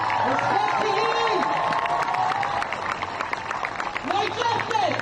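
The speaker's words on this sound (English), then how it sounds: "Round of applause for our elders." Rally crowd cheering and applauding at a protest gathering, a steady wash of clapping and shouts with voices calling out over it throughout.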